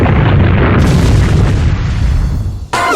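Heavy rumbling boom of an earthquake attack in the Manamon 2 game, a loud sustained roar lasting a few seconds, then a short bright burst at the end.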